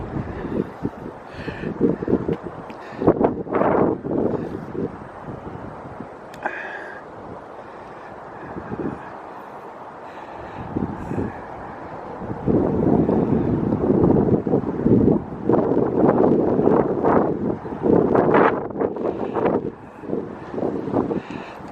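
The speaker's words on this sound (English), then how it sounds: "Trying to get out of the lee of the wind" Gusty wind buffets the microphone on the hilltop at the Frodsham war memorial, with rough low rumbling that eases in the middle and then surges again in strong sustained bursts.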